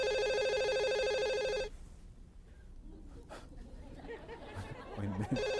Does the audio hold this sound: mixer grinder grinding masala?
no